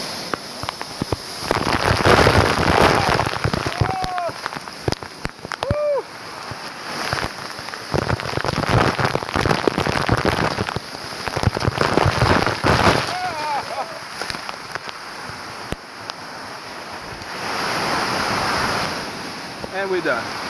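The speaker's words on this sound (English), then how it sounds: "we're going in the waterfall" A waterfall roars in a broad, continuous wash of falling water, loud and close throughout, while people's voices and shouts break in intermittently above the rush.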